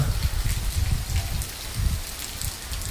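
Heavy rain pours down steadily, a dense continuous hiss of drops with deeper patters and splashes throughout, close and loud with no talking.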